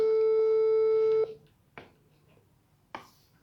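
A telephone rings with a steady electronic tone that cuts off after about a second, followed by a couple of faint clicks and knocks in a quiet room.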